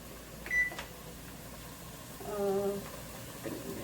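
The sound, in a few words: oven being set to preheat to 350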